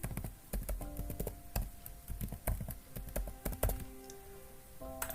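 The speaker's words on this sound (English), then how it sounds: "so I can type in the new password" Steady clatter of keys on a computer keyboard as a new password is typed, close and distinct with irregular bursts of taps and short pauses, no voices.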